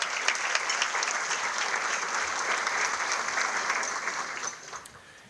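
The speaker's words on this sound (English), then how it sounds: "please join me in one more round of applause for all of our annual meeting sponsors and exhibitors" A crowd applauds steadily for several seconds, a dense wash of clapping that holds level and then fades out near the end.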